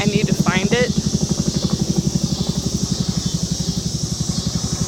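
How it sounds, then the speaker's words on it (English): A Chinook helicopter's rotors thud in a steady rapid pulse, loud and continuous, with a brief voice cutting in at the start. "Yeah, it's a Chinook."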